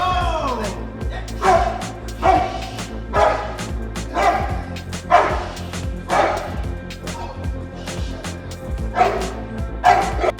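A Presa Canario barks during protection training, a series of loud, deep barks at a fairly regular pace, close by, with a person's voice faintly under them.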